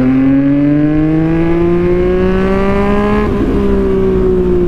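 A Yamaha MT-09 motorcycle engine drones loud and steady while riding, its pitch rising gradually as it accelerates, then briefly dipping and settling into a slightly lower steady tone.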